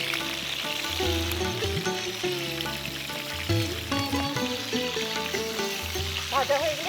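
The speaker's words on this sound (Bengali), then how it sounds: "ভাজা হয়ে গেলে মাছগুলোকে তুলে রাখতে হবে" Spiced fish pieces coated in turmeric and chili powder fry in a hot pan with a steady, continuous sizzle while music plays underneath.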